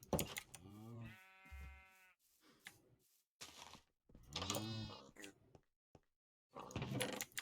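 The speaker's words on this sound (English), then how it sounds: "Why are my sheep screaming?" Sheep bleating in Minecraft, a wavering, strongly pitched cry heard twice among other game noises, with bursts of chatter around them.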